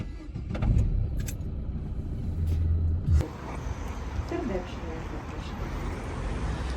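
A car engine starts and settles into a steady idle partway through, preceded by rustling and handling noises, with low rumble continuing to the end.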